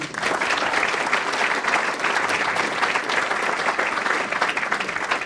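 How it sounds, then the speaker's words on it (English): Loud, steady round of applause from dinner guests at an area day banquet for the venue staff, dense and continuous clapping throughout. "a round of applause for them"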